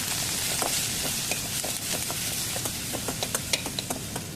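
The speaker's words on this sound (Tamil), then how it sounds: "மாங்காய் நல்லா வணக்கி விட்டுக்கோங்க." Grated raw mango sautéing in a pan for mango upma gives a steady, close sizzle broken by scattered crackles and light stirring clicks, with no voices.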